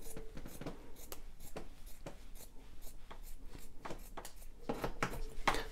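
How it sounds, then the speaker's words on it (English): Scissors cutting a cotton tank top in half, a steady series of close, crisp snips and fabric rustles with no talking. "I'm just going to cut it in half to remove that logo."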